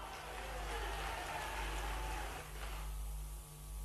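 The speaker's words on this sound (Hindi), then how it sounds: "ताली वाली बजा के बताना।" An audience at a political rally breaks into clapping, a broad wash of applause that swells and then fades, heard at a distance.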